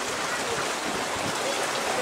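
Heavy downpour, a dense continuous hiss of rain pouring steadily and loudly over the whole stretch, with no other sounds standing out.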